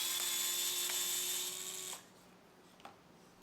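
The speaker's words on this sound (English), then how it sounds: "these DeWalt drills are really nice and really handy for this" A DeWalt cordless drill spins with a 2mm hex driver, backing out bumper screws on a 2021 Ford Bronco during a winch install; a steady whine runs loud for about two seconds, stops sharply, then a brief faint blip follows.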